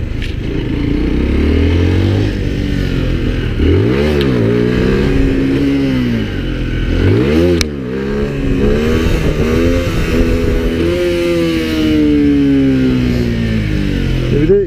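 A Mondial Drift 125 L motorcycle engine revs during wheelie practice, with repeated sharp throttle blips rising and falling in pitch, then a longer sustained climb, loud and close with no talk.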